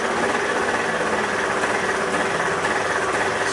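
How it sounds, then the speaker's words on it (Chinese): Car engine with fuel injection idling unsteadily after a throttle-position fault, a continuous close mechanical hum and buzz with slight wavering, no talk. "现在它到怠速的时候转速会非常不稳"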